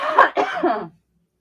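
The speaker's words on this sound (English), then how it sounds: "You're still coughing." A single harsh cough, close and clear, breaking into two rough bursts before going quiet.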